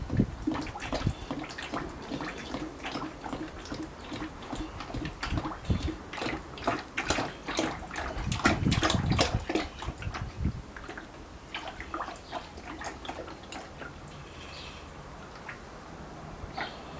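Water running into a bucket in a garage, a steady splashing pour that swells louder midway and then settles into a softer trickle, with no talk.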